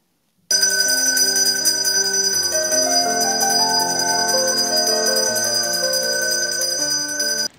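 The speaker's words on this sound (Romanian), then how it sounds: "La fel și clopoțelul simbolic a răsunat astăzi" A bright electronic bell tone rings continuously for about seven seconds, loud and close, with a layered melodic chime shifting underneath before stopping abruptly.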